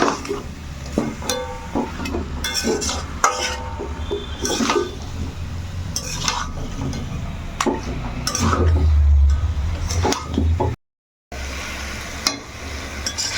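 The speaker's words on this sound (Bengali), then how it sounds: "তো বেশ অনেকক্ষণ সময় ধরে কিন্তু এটাকে কষাতে হবে, একদম ভালো করে কিন্তু কষাবে বন্ধুরা" Mutton being stir-fried (kosha) in a pan with a spoon: repeated scraping and clinking strokes against the metal over a low, constant sizzle, with a short break near the end.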